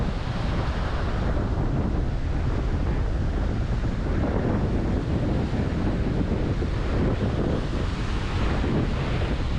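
Sea waves wash continuously onto a Caribbean beach at Playa Mamitas under strong wind buffeting the microphone, a loud unbroken roar with no voices.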